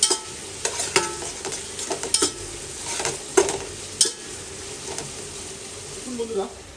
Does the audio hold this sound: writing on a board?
no